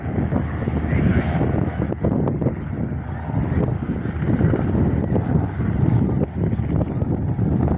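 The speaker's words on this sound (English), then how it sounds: "Another Cessna going to touch and go" A Cessna light aircraft doing a touch-and-go at Jandakot Airport drones steadily at a distance, its engine noise mixed with heavy gusting wind buffeting the microphone on a windy day.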